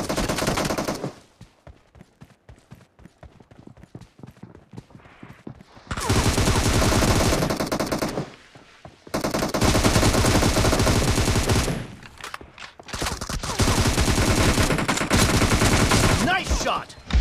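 Automatic gunfire in PUBG, coming in several long, loud, dense bursts of rapid shots separated by quieter gaps with fainter distant firing.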